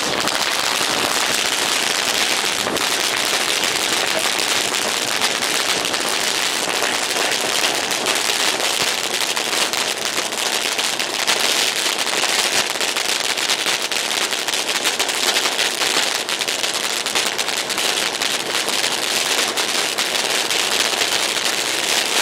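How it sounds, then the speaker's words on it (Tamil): A sky-shot firecracker lit and set off, heard as a long, continuous loud crackling hiss with dense popping and a sharper bang early on. "இந்த வெடியை நான் உங்களுக்கு பொருத்தி காமிக்கிறேன்."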